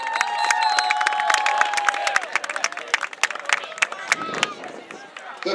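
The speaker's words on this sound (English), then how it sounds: "Please welcome, with your applause," A stadium crowd claps and cheers for a high school marching band at a field show, with sharp scattered claps and whoops over a murmur of crowd chatter that grows more sporadic toward the end.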